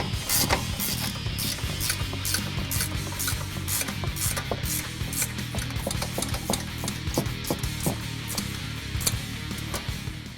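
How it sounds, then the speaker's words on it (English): Nuts being tightened on a 2009-2016 Ford F-150 during a Skyjacker 2-inch leveling kit install, 15mm, with a steady run of rapid ratchet clicks and metallic rubbing, close and fairly loud throughout. "Tighten up the nuts up top."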